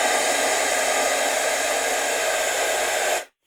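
Small loudspeakers driven with no surface to resonate against, giving a thin, steady broadband buzz that holds evenly for about three seconds before cutting off abruptly.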